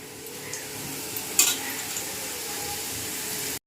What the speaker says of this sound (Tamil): இதை நம்ம 2ஆவது ஆயிலில் போட போகிறோம்.